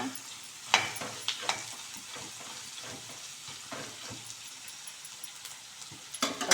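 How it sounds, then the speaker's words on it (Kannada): Green chillies frying in hot oil in a pan for South Indian lemon rice, a steady soft sizzle with a few scraping stirs and clinks throughout, close and moderately quiet, no talking. "ಆಮೇಲೆ ಹಸಿಮೆಣ್ಸಿನ್ಕಾಯಿ ಆದಮೇಲೆ ಸ್ವಲ್ಪ ಫ್ರೈ ಮಾಡಿಕೊಂಡು"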